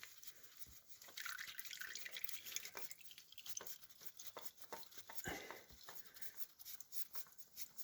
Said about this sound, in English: Oh, we're starting to drip into our pan,